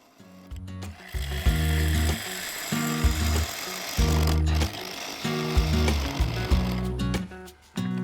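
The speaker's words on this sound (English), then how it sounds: "Off camera, I'd sharpened the gouge, and it was slicing through the waste material." A 3/8 bowl gouge hollows an oak blank held in a four-jaw chuck on a wood lathe, giving loud, repeated rattling cuts in short bursts, with brief pauses between passes.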